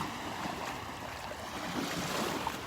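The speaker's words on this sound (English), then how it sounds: "The little waves lapping on the shore here put me in a trance." Small waves lap on the beach shore at Delnor-Wiggins, forming a soft, continuous wash of surf. It stays faint and even, with a hint of wind and no voices.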